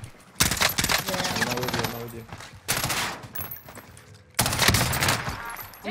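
Rapid automatic gunfire in Call of Duty Warzone, sustained bursts loud and close, separated by brief gaps, with a voice talking over the shooting.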